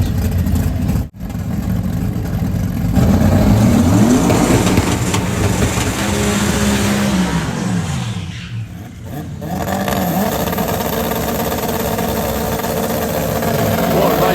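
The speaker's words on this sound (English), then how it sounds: "Single turbo, 4-cylinder versus twin turbo V8." Drag race at Santa Pod Raceway, a single-turbo four-cylinder against a twin-turbo V8: loud, steady engine roar with rising and falling pitch as the cars run, close and dominant throughout.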